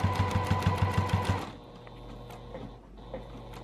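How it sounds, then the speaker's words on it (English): A sewing machine stitches a small vinyl notions pouch with a fast, steady rhythmic chatter for about a second and a half, then stops, leaving quiet handling noise. "I'm gonna take one stitch into this,"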